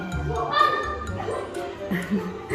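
A small dog yips and barks in quick bursts at a pet shop, mixed with whimpering, while people talk over it in the foreground.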